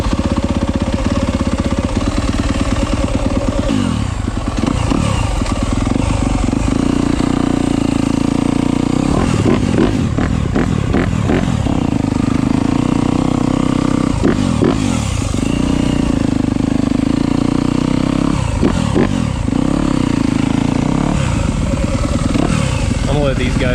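KTM dirt bike engines running during trail riding, steady loud engine drone with repeated revving surges, heard close over a continuous rumble.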